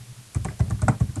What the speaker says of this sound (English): we type in Bill Nye